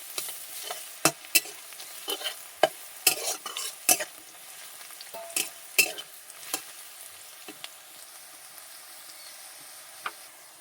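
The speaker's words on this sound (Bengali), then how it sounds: "রসুন আর আদা একসাথে দিয়ে দিলাম।" Garlic and ginger fry in oil with browned onions, a faint low sizzle broken by a series of sharp spatula scrapes and clacks against the pan, fading to quieter stirring near the end.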